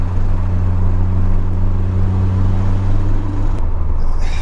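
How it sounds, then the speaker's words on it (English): A loud, steady low engine drone with a strong humming tone, close up, idling and droning continuously throughout, from the T4 turbocharged engine of a 1987 Ford Sierra Cosworth RS500. "you just can't beat the sound of that T4 turbo"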